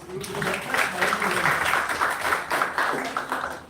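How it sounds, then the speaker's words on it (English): A modest patter of clapping rises from the audience at a university elocution contest as the first participant is introduced, uneven and fairly quiet, with voices mixed in. "Can we have a huge round of applause?"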